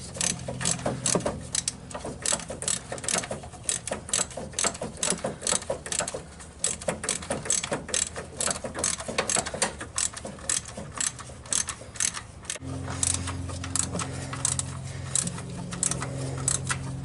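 A ratchet clicks quickly and steadily, close up, as the fuel pump bolts are tightened on a 1985 Camaro with a 305 small-block V8. The rapid clicking runs in bursts, with a low mechanical hum joining near the end.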